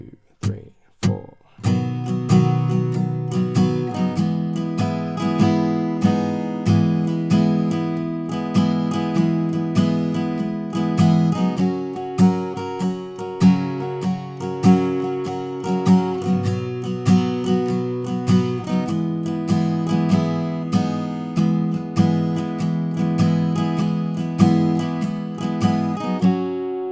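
An acoustic guitar strums a song's chorus chord progression in a steady four-count rhythm, with full ringing chords changing every few bars and played close and clear for about half a minute.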